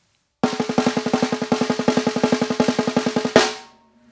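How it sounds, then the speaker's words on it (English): Snare drum double stroke roll, an even, rapid stream of paired strokes lasting about three seconds, ending in a louder accented hit that rings out briefly. "The double stroke roll just played on the snare sounds like this."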